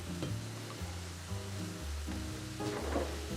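A pot of pasta fazool soup simmering on the stove, giving a steady soft bubbling and sizzling with faint stirring clinks, close and fairly quiet, with no voices.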